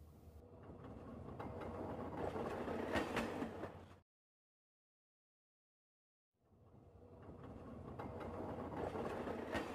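Rumbling train noise with rattling carriages in a Spanish fandub of Mogeko Castle, cutting out to silence partway through before the rolling clatter returns.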